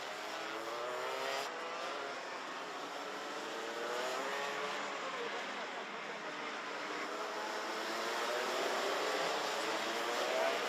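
Junior race cars run at full racing speed, a faint, steady whine of several engines rising and falling in pitch as they lap the circuit, heard from a distance.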